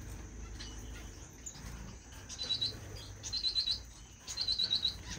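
Pet finches in cages in a bird room give quick bursts of high, thin chirps in three short clusters, over a soft steady background hum.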